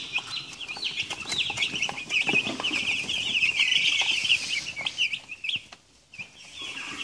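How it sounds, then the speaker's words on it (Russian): A flock of nine-day-old Ross 308 broiler chicks chirps and peeps continuously in a high, busy chorus, with faint rustling and soft clucks underneath, fading briefly near the end. "Вот такая уже достаточно крупная птичка, занимает всю площадь"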